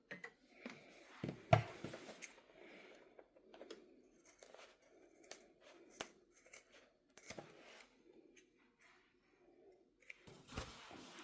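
Scissors trim the seam allowance of a sewn zipper clutch bag, with quiet, irregular snips and fabric rustles close by and one sharper cut near the start.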